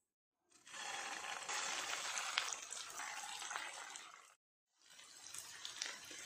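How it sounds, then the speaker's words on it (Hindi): Kofta balls sizzling in hot oil over a medium flame, a loud, steady hiss of frying that runs for about four seconds, breaks off briefly, then resumes just as strongly. "फ्लेम को मीडियम पे रख के कोफ्ते डालते जाइए और फ्राई करते जाइए।"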